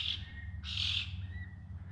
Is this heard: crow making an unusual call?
yes